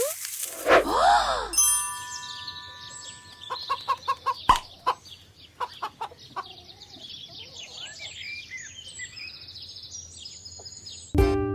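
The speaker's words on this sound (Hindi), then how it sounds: "मुर्गी।" Cartoon hen clucking in a string of short, sharp calls, with a burst of squawking at the start and scattered chirps around the clucks, fairly close and clear.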